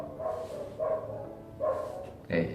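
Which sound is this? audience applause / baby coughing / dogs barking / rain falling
dogs barking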